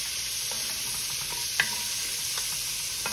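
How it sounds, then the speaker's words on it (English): Onions and celery sizzle and fry in a pot for a pork braise, a steady close crackle with a few faint stirring clicks and scrapes, no voices. "Onions and celery in there. We're going to get this kind of caramelized off."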